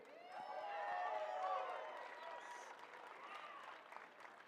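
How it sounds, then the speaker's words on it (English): An audience at a youth national climbing championship lead final applauds the route setting crew, a dense wash of clapping and some cheering that swells then slowly fades, heard from within the crowd. "Please give a round of applause for this year's Youth National Team lead crew."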